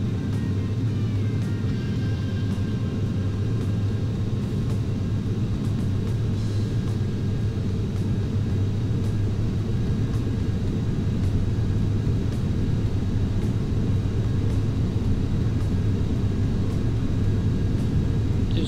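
Boeing 737 engines roaring through a takeoff roll in Flight Simulator X, a steady, loud, dense rumble with a constant thin whine on top, unbroken for the whole stretch with no talking.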